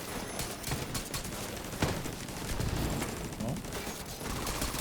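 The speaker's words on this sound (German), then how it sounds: "Deswegen schieße ich jetzt erstmal nur mit der Pistole." Pistol shots fired in The Division 2, a loose string of sharp cracks in steady succession over dense game noise and ambience, fairly close and loud; a voice says a single short word.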